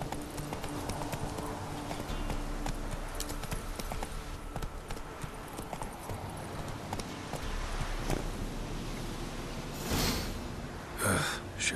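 Hoofbeats of Roach, a horse in The Witcher 3: Wild Hunt, clip-clopping steadily at close range throughout, with a few snorts and breaths near the end.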